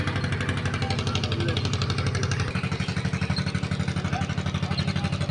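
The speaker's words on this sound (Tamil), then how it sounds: "ரோப் காரில் கரண்ட் இல்லை, ஜென்ரேட்டர் தான் ஓடுது" A generator powering a rope car runs with a steady, rhythmic chugging throb, close and continuous, with a voice heard faintly underneath.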